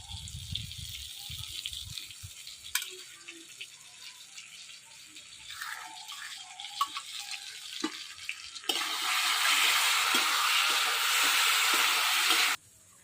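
Potatoes and eggplant frying crisp in a pan, a soft, crackling sizzle under quiet kitchen clatter that swells into a loud, steady hiss near the end before cutting off.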